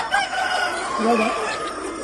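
Free-range chickens roaming in the open cluck and call together close by, a drawn-out crowing-like note rising among the clucks, with faint background chatter.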